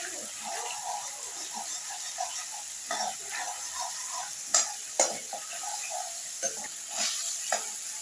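Spices frying in a pan for a Bengali bottle gourd and fish curry, a steady close sizzle broken by sharp scrapes and clinks of stirring, with no talk.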